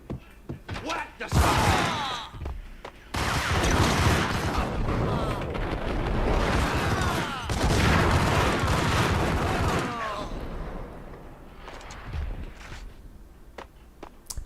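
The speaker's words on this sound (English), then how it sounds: "I got blown up by a grenade" Grenade blast in the Max Payne video game, loud sustained rumbling bursts and gunfire-like impacts amid heavy action noise, with someone talking over it.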